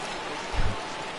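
Rain falls in a baseball video game, MLB The Show, as a steady full hiss with a brief low thump in the middle.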